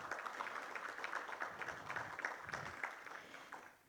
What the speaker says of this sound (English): Please, another round of applause, ladies and gentlemen